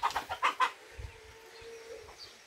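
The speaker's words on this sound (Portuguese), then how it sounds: "É isso, galinha." A chicken clucks in a quick run of short, fairly close calls, then the sound drops to quiet outdoor background on a rural property near woodland.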